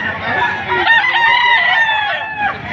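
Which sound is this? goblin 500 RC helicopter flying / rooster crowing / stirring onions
rooster crowing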